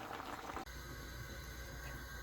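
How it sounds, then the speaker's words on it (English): Chicken pieces boil in a pot for Nigerian chicken stew, a steady low bubbling simmer after a brief clunk, quiet and continuous with no talking. "So while the chicken is boiling"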